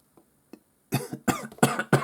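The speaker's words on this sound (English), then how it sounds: "He's coughing already." A man coughs close to the microphone, starting with a couple of faint throat sounds, then a run of four or five harsh, loud coughs in quick succession.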